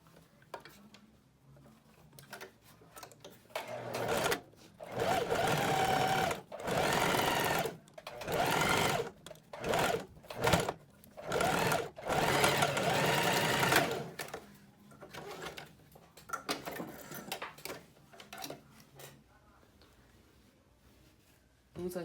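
A sewing machine stitches a blouse in a series of close, choppy bursts that stop and restart through the middle, with quieter handling before and after, and no spoken words.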